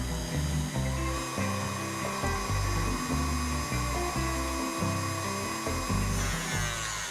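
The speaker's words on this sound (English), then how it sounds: "And now I'm going to mix this until it's frothy on a low speed, and then increase the speed and beat it just to soft peaks." An electric hand mixer whirs steadily and loudly while whipping cream toward soft peaks in a kitchen, its motor tone wavering as the beaters work through the bowl, with no talking.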